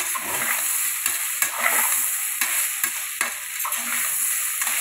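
Curry leaves crackle and sizzle as they drop into hot oil in a pan with meal maker and sweet corn, a steady bright frying hiss broken by a few louder pops and stirring clicks, close and without voices.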